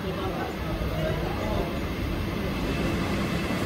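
A crowded Mumbai local train rides along with a dense, steady roar and rumble close around, with people talking over it.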